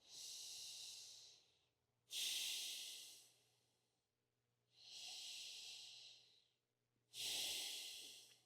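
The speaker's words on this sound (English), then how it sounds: "you're breathing through your nose" Slow, steady breathing through the nose, close up: four long airy breaths alternating in and out, with quiet pauses between them.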